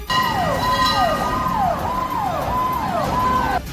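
A loud fire engine siren sweeps up and down in a repeating cycle, close by, with a dense, steady tone and traffic rumble underneath.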